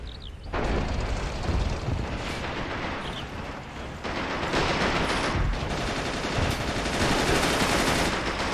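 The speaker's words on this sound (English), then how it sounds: "Oh, yep, machine gun there, right up in the trench." Continuous machine gun fire and explosions from the World War II strategy game Men of War: Assault Squad, in a German assault on a Soviet tank factory in 1941, a dense, loud, unbroken battle din.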